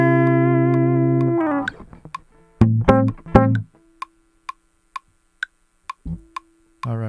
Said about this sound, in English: I have the click playing in Q out 3 over here.